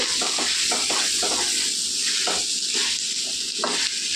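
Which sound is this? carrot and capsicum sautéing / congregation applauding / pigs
carrot and capsicum sautéing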